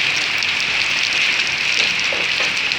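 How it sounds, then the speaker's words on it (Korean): Hail falling on an outdoor yard, heard as a steady, dense hiss of tiny pellets pattering on the ground, continuous and even throughout with no voices. "응, 우박 내리고."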